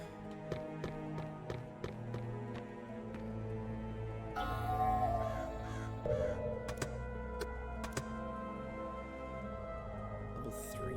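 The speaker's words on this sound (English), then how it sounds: "I killed the birds. Can't even reach the birds." Crows cawing in the dark fantasy video game Vigil: The Longest Night, repeated harsh caws over ambient game music, with clicks and footsteps scattered throughout.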